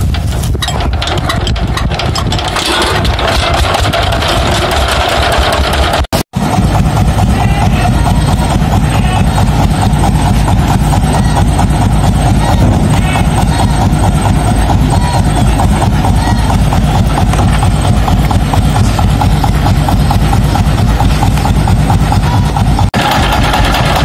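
A truck engine brought to life by a manual hand crank: rough cranking and chugging at first, a sharp break, then a steady loud diesel-like idle that runs on continuously, with faint talk in the background.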